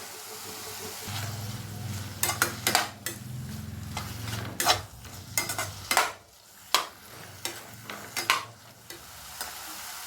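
Chopped brinjal and tomato sauté in a pan for brinjal chutney, with a low steady sizzle and repeated sharp scrapes and clinks of a spoon stirring against the metal pan, close and alone.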